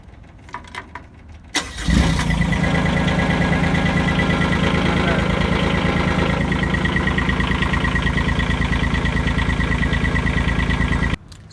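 A Rhino XN12 machine with a Kubota diesel engine starts with a sharp crank, then idles at a steady, even clatter for about nine seconds before shutting off, with some talk before the start.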